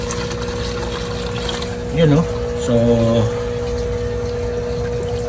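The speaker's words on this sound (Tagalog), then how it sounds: "So lagyan po natin siya ng tubig para ma-check po natin, no, kung may leak." Water pours and gushes steadily into a DIY BBS fish hatchery being filled to check for leaks, a continuous close rush with a steady hum underneath, while someone talks briefly over it.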